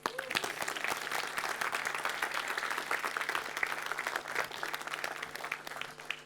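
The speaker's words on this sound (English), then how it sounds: "may I have the biggest applause today yet for the former scientific director of Aletta" An audience at an academic impact event claps warmly for a former scientific director, sustained applause with individual claps standing out, a faint voice briefly heard.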